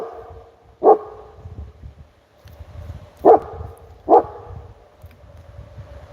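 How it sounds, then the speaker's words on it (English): A dog barks three separate times, loud and close, with short pauses between the barks and quiet room noise in between. "Let's go see what he's barking at."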